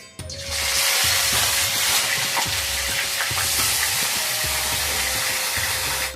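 Prawns frying in hot oil in a home kitchen for a Bengali radish and prawn dish. A loud, steady hiss and sizzle follows the splash of the prawns going in and fills the whole clip, with faint pan sounds underneath.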